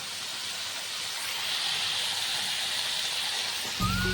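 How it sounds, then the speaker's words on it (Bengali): Boiled, cut vegetables fry in a pan at home with a steady soft sizzle and hiss close by, and a brief clink near the end. "সবজিটা কেটে ধুয়ে এইভাবে আমি ভাজা করছি"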